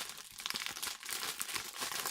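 Plastic packaging of a Naruto figurine box crinkling and rustling as it is opened, quick irregular crackles close up and fairly soft, with no talk.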